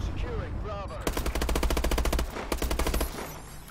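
Rapid automatic gunfire rattles in a Call of Duty: Advanced Warfare match, a loud dense stream of shots in two bursts with brief gaps, and game sounds before the first burst.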